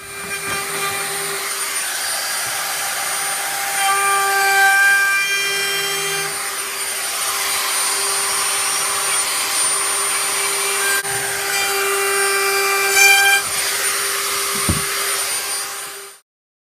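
A router fitted with an ogee bit cuts profile into wood trim for a headboard and footboard, a steady high whine running loud and continuous throughout with slight load changes as the bit passes along the wood.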